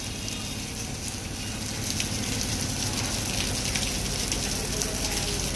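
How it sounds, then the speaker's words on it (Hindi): Steady rain falls outside a small Durga temple in India, a continuous even hiss of drops on surfaces that holds at a moderate level throughout, with no voices. "बारिश अब कम हो रही"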